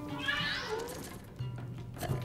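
A cat meows in the video game Luigi's Mansion 3. One long, rising and falling meow is followed by a shorter, lower meow, clear and close with no speech.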